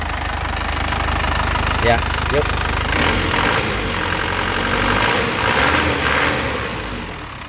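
A warm, healthy 2018 Isuzu Panther LS Turbo diesel engine with about 80,000 km idles with a steady, crisp knocking clatter close by, while someone talks briefly over it.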